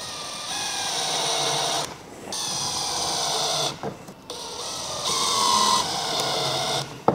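A power drill bores and drives into a plastic kayak hull while fitting a flush-mount rod holder, with loud sustained whirring runs broken by short pauses and a sharp click at the end.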